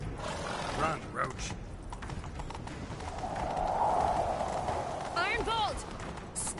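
Horse hooves clip-clopping at a run in The Witcher 3 during a chase, a steady rhythmic patter beneath game dialogue and music, with a brief whinny near the end.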